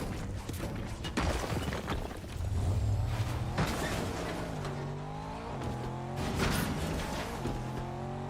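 A car speeding and swerving in a video game, engine revving and shifting pitch up and down with several tire squeals and skids over a continuous roar.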